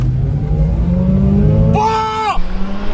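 A TOGG car engine revs hard and accelerates while racing a Mazda RX-8 on asphalt, a steady loud roar with a brief rising whine midway, close and continuous.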